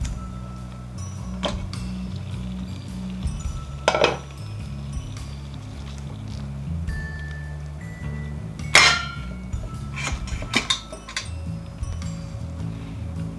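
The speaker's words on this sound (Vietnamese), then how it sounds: "mình sẽ cho vào nồi hấp luôn ha." A cake pan of pandan rice cake being set into a steamer pot of boiling water, with a few scattered metallic clinks and clanks of pan against pot over a low steady rumble, no talking.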